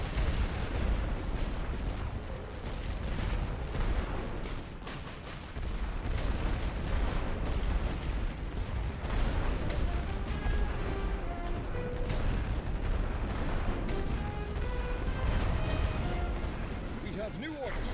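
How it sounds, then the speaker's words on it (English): An artillery barrage from a Great War video game: a continuous, heavy rumble of overlapping gun blasts and booms, with voices mixed in throughout. "Fire all guns."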